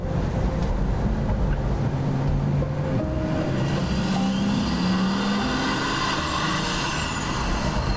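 A Pagani Huayra supercar growls continuously and loudly, its engine note sweeping up and down as it accelerates past, with no talk.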